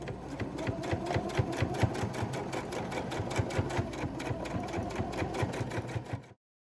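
A sewing machine runs steadily, stitching straight seams down the side of a homemade fabric face mask with a filter, a fast even needle rhythm lasting about six seconds before stopping abruptly.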